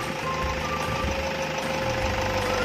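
A 2012 Toyota Fortuner VNT TRD turbo diesel engine runs with a steady, loud rumbling drone and a faint whining tone, continuous throughout.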